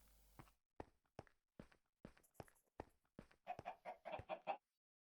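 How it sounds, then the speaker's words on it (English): Chickens in the Minecraft video game cluck in a run of short, evenly spaced pecking calls that quicken into a denser burst near the end, with nothing else heard. "Okay, so chickens."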